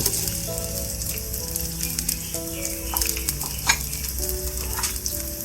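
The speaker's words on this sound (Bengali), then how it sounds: "দুই মিনিটের মতো পেঁয়াজটা আমি ভেজে নেব" Chopped onions sizzle and crackle steadily in about a cup of hot oil in a pot, a dense close frying hiss with occasional pops and stirring scrapes, no voices.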